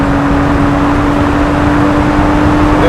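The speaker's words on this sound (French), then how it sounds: "Allez hop, accélère un petit peu" A BMW 535i Kelleners Sport accelerating on an unrestricted highway, heard as a loud, steady interior roar of engine and road noise with a constant whine running underneath.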